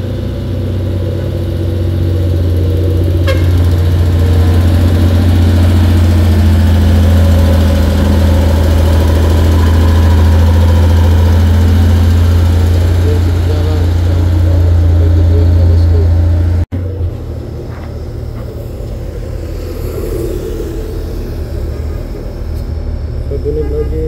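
A Fuso trailer truck labouring up the Bukit Kodok hill, its heavy diesel engine droning loud and steady with a deep low rumble, then dropping in level after a sudden cut partway through as the strain continues.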